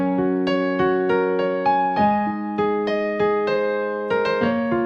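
Solo piano plays a short loop from a song, with steady chords struck about every half second, each leaving a sustained ring, close and clear with no voices.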